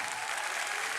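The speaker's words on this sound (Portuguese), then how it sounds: "Dá uma salva de palmas para o Plínio." A church congregation gives a dense, steady round of applause for their pastor's 55th birthday during a worship service, the clapping filling the room evenly without a break.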